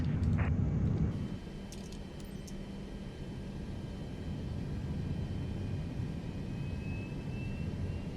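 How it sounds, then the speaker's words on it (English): Boeing 737 jet engines starting up in Microsoft Flight Simulator 2024: a steady low rumbling whine holds throughout, with a faint thin tone slowly rising in pitch as the engines spool. "You are cleared to start engines."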